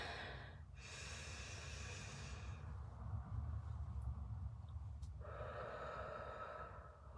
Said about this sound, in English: Let's take 3 deep breaths